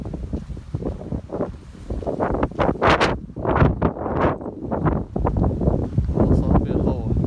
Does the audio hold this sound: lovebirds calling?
no